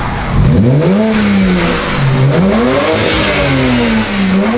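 A BMW 335i's 3-litre turbo petrol engine with an Akrapovič exhaust revs up and down repeatedly, a loud, close, throaty roar rising and falling in pitch with no voices.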